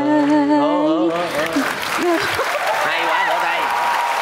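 A studio audience on a Vietnamese game show breaks into applause as a sung ballad ends, the final sustained vocal notes fading into steady clapping while a host speaks over it.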